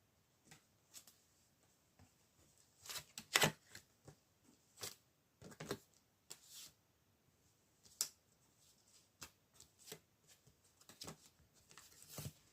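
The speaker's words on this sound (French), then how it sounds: "on va tirer des cartes sur le triangle personne en trop pour essayer d'avoir" Tarot cards are shuffled and drawn close up in a quiet room, producing soft, scattered papery flicks and snaps in irregular bursts, with faint rustling between them.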